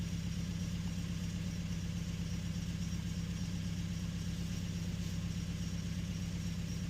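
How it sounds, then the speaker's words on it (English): Nissan Frontier 2.5 engine idling with cylinder 3 misfiring, a steady low mechanical drone with an uneven, slightly stumbling pulse running continuously and alone, no voices. "Cylinder 3 is misfiring."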